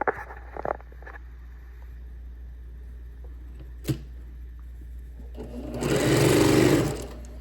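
A sewing machine stitches fabric for a large tote bag in a short, loud burst near the end of the clip, after some quiet handling clicks and a single sharp tap.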